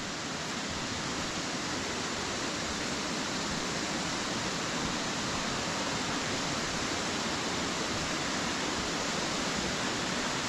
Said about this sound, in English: here we are at the waterfall. Let's see how good it is. Well, it looks like it's running quite fast.